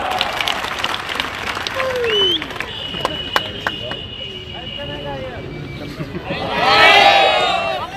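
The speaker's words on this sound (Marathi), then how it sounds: "त्यांच्यासाठी जोरदार टाळ्या वाजवा" An outdoor political rally crowd in Latur applauds a Konkan folk singer (shahir), with clapping and crowd noise swelling loudly near the end amid voices and whistles.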